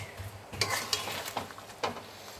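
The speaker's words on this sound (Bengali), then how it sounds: "সব কুল দিয়ে দিচ্ছি আর ভালো করে গুড়ের সাথে কুলগুলো মিশিয়ে নিচ্ছি" A spoon stirs jujube berries into boiling jaggery for a sweet-sour pickle, giving a few scraping, bubbling strokes close by with soft sizzling between them and no talk.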